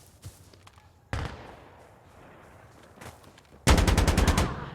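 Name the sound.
AKM gunfire in a tactical shooter video game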